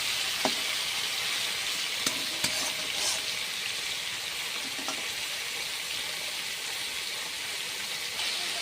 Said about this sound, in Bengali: এখানে দেখুন বন্ধুরা, মাছের মাথাগুলো ভাজা হয়ে গেছে।